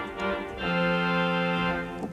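A brassy pipe organ trumpet reed stop plays a couple of short notes, then a steady held chord that rings clearly and fairly loudly before releasing.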